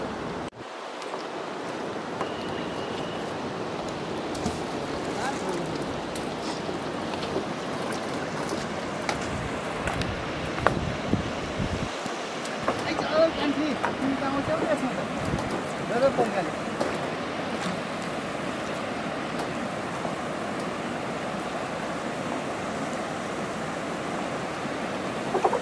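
The Bheri River in Surkhet flows at a fishing spot, a steady broadband rush of moving water that continues unbroken for the whole stretch, with a few louder splashy moments.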